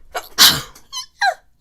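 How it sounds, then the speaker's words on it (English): A person gives a single sharp sneeze up close, a quick inhale followed by the loud burst and a couple of small trailing sounds. "That sneeze just kind of came out of nowhere."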